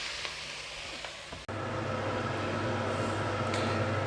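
Ground meat and onions sizzle in a pan for chili, a steady low frying crackle with a brief clatter partway through, then a fuller, louder sizzle continuing to the end.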